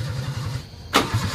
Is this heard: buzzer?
no